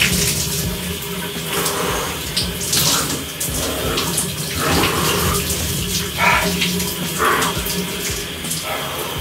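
Cold water runs steadily from a tap in a bathroom, a continuous loud gushing and splashing with small shifting spatters and no voices.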